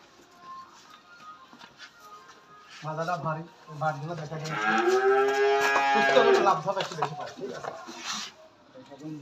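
Holstein Friesian cow on a dairy farm lowing loudly up close, several drawn-out moos rising and falling over a few seconds, with people talking nearby.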